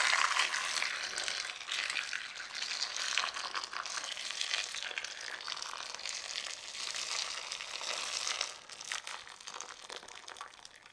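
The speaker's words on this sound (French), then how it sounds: "J'ai cuit mon eau et puis je vais la verser par-dessus les tomates" Freshly boiled water pours over tomatoes in a steady rushing, crackling stream that holds for several seconds before easing off, with no voices.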